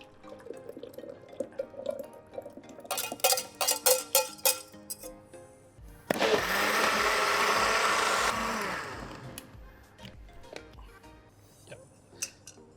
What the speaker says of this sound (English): I'm going to blend this mix.